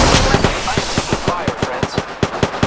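Automatic gunfire in Apex Legends during a squad fight, a steady rapid burst of sharp cracks about four or five per second, loud and close throughout.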